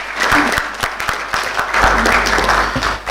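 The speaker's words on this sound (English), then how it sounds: "another round of applause for Professor Rabiu" Audience at a science academy fellows' induction and public lecture breaking into dense, sustained applause, many hands clapping together in a hall, loud and close with faint crowd murmur.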